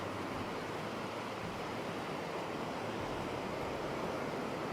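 Surf washes steadily onto an empty beach at Khao Lak, Thailand, a continuous soft roar of waves, faint and even, with a little wind and no voices.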